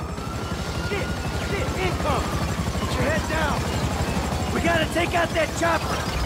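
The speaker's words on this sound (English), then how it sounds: "Take out that chopper!" A police helicopter hovers over a building during a raid in the video game GTA V, its steady rotor chop loud and continuous beneath gunfire and shouted dialogue.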